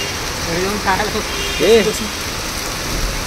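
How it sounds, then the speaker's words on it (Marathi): Heavy rain pours down steadily in a broad hiss that runs the whole length, while voices briefly talk over it. "पावसानं मस्त जोर काढलाय."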